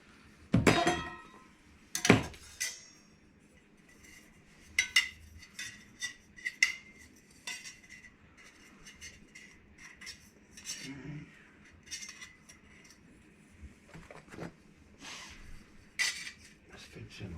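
Metal parts of a gasifying twig stove clinking and clattering together as they are fitted, sharp knocks at irregular intervals, close by, with quieter handling between.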